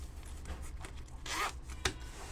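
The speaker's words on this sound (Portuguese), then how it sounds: "abrindo o zíper aqui, o bolso tá certinho" Zipper on a handmade fabric tote bag with a lined pocket pulled open in one quick, close, fairly quiet zip, ending in a sharp click as the slider stops.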